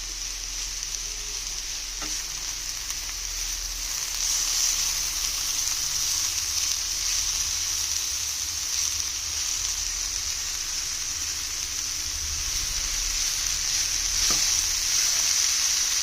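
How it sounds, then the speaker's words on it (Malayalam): Green gram and cabbage thoran cooking in a frying pan, a continuous loud sizzle with occasional faint stirring scrapes, no voices. "ഇനിയൊന്ന് നമുക്ക് ഇളക്കി കൊടുക്കാം."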